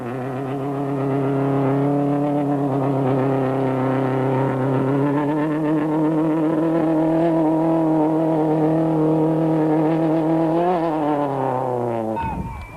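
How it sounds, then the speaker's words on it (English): A leading Toyota Conquest rally car on a 1993 Volkswagen International Rally stage roars loudly at high revs, its engine note holding strong, then dropping in pitch as it blasts past close by. "Serge and Vito in their leading Toyota Conquest blast past the camera on their way to yet another fastest stage time."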